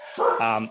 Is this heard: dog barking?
yes